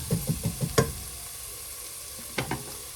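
Onions fry in a pan, with a quick run of spoon or spatula knocks against the pan over a steady background sizzle, then quieter frying and two more stirring clinks near the end.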